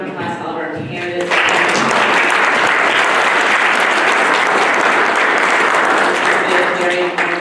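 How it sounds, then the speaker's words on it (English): A large audience at a county board of supervisors candidates forum in Fairfield, California, breaks into loud, sustained applause after a moment of talk, the clapping filling the room steadily to the end. "Let's give a round of applause to all of our candidates."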